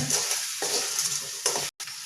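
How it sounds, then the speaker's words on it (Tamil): Masala spices being sautéed in oil for a Malaysian-style chicken gravy, a close sizzling hiss broken by a few stirring scrapes and one brief gap, with no talking. "பாருங்க மசாலா அப்படியே வணக்கிங்க"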